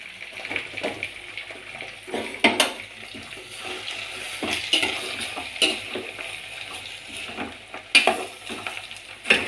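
Pounded spices sizzle and spatter in a pan with intermittent stirring scrapes and clatters, the frying hiss rising and falling over several seconds.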